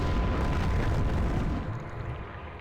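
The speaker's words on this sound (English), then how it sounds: "With the last shot of my blunderbuss, however, I have finally beaten the DLC" A blunderbuss in Alice: Madness Returns fires one heavy, booming blast that starts loud and close, then fades into a rumbling decay.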